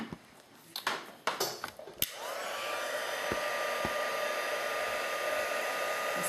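A heat gun blows hot air to melt white embossing powder on cardstock, starting after a few handling clicks and taps and then holding a steady, moderately loud whooshing hum.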